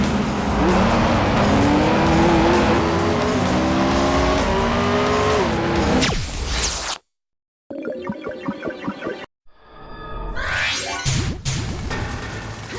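Racing cars in a PS2 driving game with around 150 licensed cars, heard as loud revving engines climbing through gears with tyre squeal, then a brief gap and a burst of choppy engine and crash sounds.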